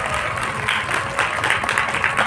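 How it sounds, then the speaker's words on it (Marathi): Audience applause at a closing session of a Mahanubhav literary conference in Nagpur, a short stretch of moderately loud, steady clapping. "त्याबद्दल बाबांसाठी जोरदार टाळ्या होऊन जाऊ द्या"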